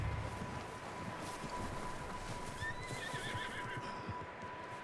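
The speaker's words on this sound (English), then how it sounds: "I hear horses running over there." Horses in the game Red Dead Redemption 2 whinny faintly in the distance over a low ambient hum, with soft hoofbeats and a steady tone beneath.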